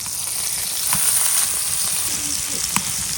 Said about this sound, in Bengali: এখন উল্টাই আর এক কুল ভাজতে হইবে।